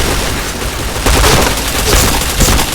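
Loud gunfire in the first-person shooter game Point Blank, with a dense run of booming shots and sharp impacts from a headshot sequence that stays close and intense.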